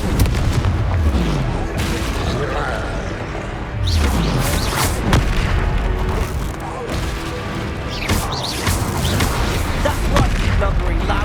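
Confringo fire spell blasts in the Hogwarts Legacy game, repeated heavy booms and crashing impacts over dense combat noise, loud and near, with voices mixed in.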